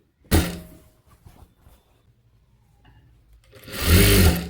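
A sewing machine stitching a puff sleeve, with a sharp thunk at the start, a quiet stretch of light mechanical clicks, then a loud burst of rapid whirring stitching near the end.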